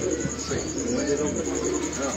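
Pigeons coo in a low, steady murmur, with a constant high electrical whine and some background noise throughout.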